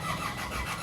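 A car engine cranks and catches while being jump-started from a 12-volt booster cable, a loud, dense mechanical roar filling the short moment without pause.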